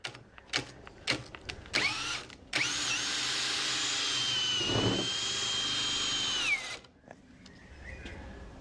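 A Kincrome cordless battery hammer drill runs steadily at full speed for about four seconds, loud and close, with a high whining motor tone, after a few sharp clicks and short bursts.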